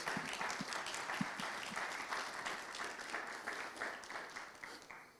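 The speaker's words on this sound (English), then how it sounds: "Y'all give a round of applause." An audience at a monthly district community meeting claps for a team called up front, a steady spread of clapping that thins slightly and fades toward the end, with a few distinct near claps early on.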